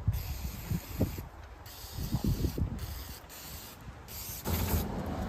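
Brake cleaner aerosol sprays onto the fuel rail of a Navigator-swapped Ford F-150 in short, close hissing bursts with gaps between them, then one longer steady spray near the end.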